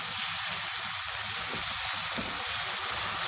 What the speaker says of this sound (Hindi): ये सब कुछ हम तेज़ आंच पे मिक्स करते हैं।